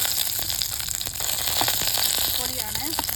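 Fenugreek seeds roast in a hot pan, giving a steady sizzling crackle with faint stirring scrapes. Someone talks over the cooking.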